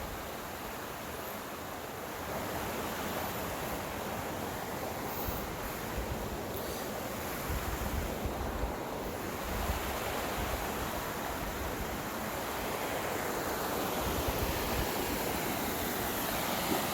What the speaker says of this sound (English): still a pretty good looking amount of water here through the creek